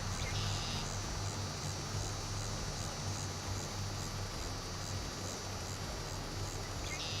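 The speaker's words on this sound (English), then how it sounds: "We are also using the new Critters mod. That's what you're hearing right there. Some cicadas." Cicadas from the Critters mod in Farming Simulator 22 buzz in a steady, droning chorus, with a high shrill band pulsing faintly over a constant low hum, no voices.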